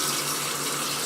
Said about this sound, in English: we're going to start off with 4 cups of water